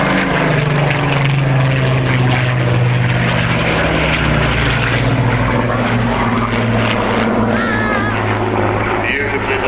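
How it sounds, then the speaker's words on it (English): Spitfire and Hurricane warplanes, including a Mark 19 Spitfire, roar past together at an airshow, their deep piston-engine drone and propeller buzz loud and continuous, with a commentator talking over it. "Yes, Spitfire from the left, Hurricane from the right."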